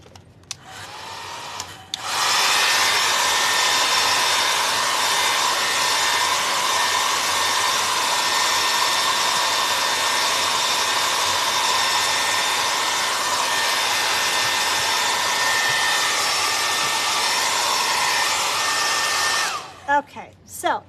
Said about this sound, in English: I'm going to hit this with a blow dryer real quick.